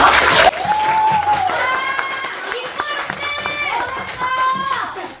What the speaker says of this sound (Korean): 뜨거운 박수 함께 맞아주세요